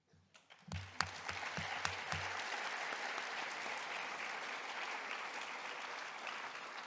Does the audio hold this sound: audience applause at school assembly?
yes